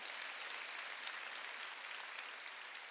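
A church congregation at a Sunday worship service breaks into steady, even applause, faint and somewhat distant, continuing without pause or voices over it.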